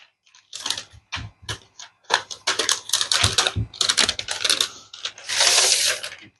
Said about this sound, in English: Let's first bring it out of the paper.